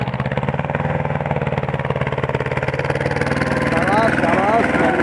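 Engine of a Mahindra Jivo 245 DI 4x4 mini tractor pulling hard through the soil in a field demo, a steady throbbing drone that strains louder toward the end, with people talking over it.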